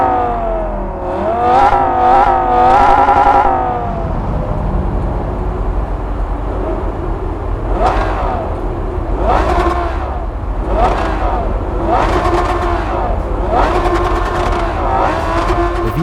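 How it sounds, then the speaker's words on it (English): Two cars from Cyberpunk 2077 idle at a standstill one after the other, the first a steady rumbling idle with a few loud revs, the second a higher, faster-revving VTEC engine blipped repeatedly in sharp bursts. "Here's a brief comparison of both cars' exhaust notes at a standstill."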